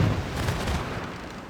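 Crack cannons fire at a city in Civilization VI, a deep, rumbling boom that fills the short moment and slowly fades, loud and heavy in the low end.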